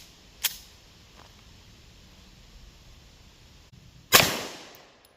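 Handgun shots with 115 grain +P+ ammunition from a 4.35 inch barrel, fired over a chronograph: a sharp, distant-sounding crack early on, then a much louder, nearer report near the end, each with a short decaying tail.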